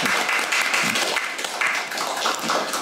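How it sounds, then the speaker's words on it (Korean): Audience applause at a Daejeon forum on technology, art and national future strategy: a dense, loud, continuous wash of many hands clapping together throughout. "많이 응원해달라는 응원의 박수 부탁하면서 보내주시다."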